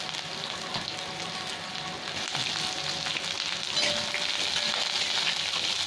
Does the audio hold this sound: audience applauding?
no